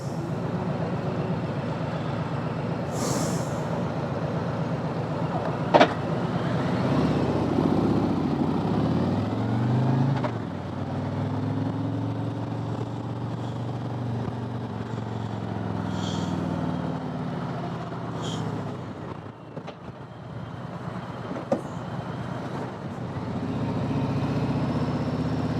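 A 2020 Harley-Davidson Road Glide Limited motorcycle cruises with a steady, fairly muffled engine rumble and passing road noise, swelling and easing over the ride and broken by a few brief sharp clicks.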